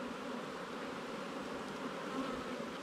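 A honeybee colony buzzes steadily during a hive frame inspection in Jamaica, a dense, continuous hum close by with no voices over it.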